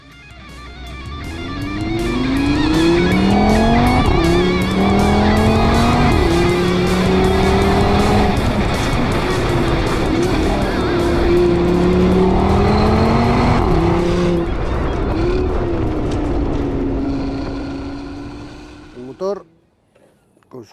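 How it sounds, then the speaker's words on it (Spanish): An Audi TT RS with a five-cylinder engine revs and accelerates hard, pitch climbing through repeated gear changes with a loud, sustained roar before it cuts off near the end. "Este motor, que es una maravilla, es el 5 cilindros"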